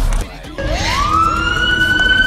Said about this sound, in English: and sirens going off